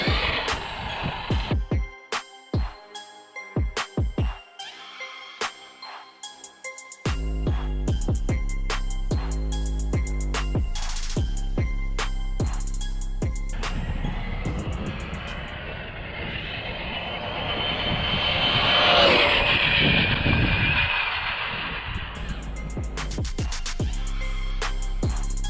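A 12S Traxxas X-Maxx RC car on a speed run gives a rising electric whine and roar that swells, peaks as it passes close, then fades, with wind buffeting and scattered clicks before it launches.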